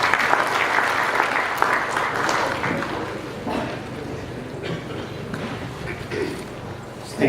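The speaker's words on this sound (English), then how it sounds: "A huge round of applause to our chief guest." An audience gives a long, steady round of applause for the chief guest at the inaugural ceremony of a diplomacy and development center, with faint crowd murmur mixed in beneath the dense clapping.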